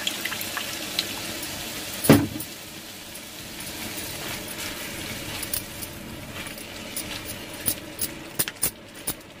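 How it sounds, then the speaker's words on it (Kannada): Tamarind water pours into a pot of bean and lentil sambar, a soft, continuous liquid trickle with a sharp clank near the start and scattered light clinks of utensils later on. "ಹುಣಸೆ ಹಣ್ಣನ್ನು ಹಾಕಿಟ್ಕೊಂಡಿದ್ನಲ್ಲ ಅದ್ರ ನೀರನ್ನು ಹಾಕ್ತಾ ಇದೀನಿ"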